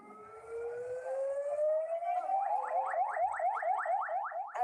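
An ambulance siren in Galle, Sri Lanka rises steadily in pitch, then switches to a fast repeating wail, loud and fairly close, with traffic rumble underneath.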